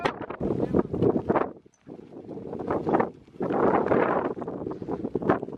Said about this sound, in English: It is really windy and really cold